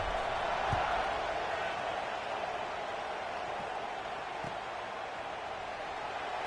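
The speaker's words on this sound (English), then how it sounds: "this crowd is buzzing after that last score" A stadium crowd in a college football video game gives off a steady, broad roar that holds at an even level throughout, with a couple of faint thumps underneath.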